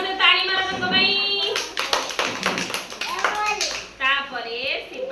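Small children clap their hands in an uneven patter of sharp taps while kids chatter and an adult speaks over them, voices and claps overlapping close by.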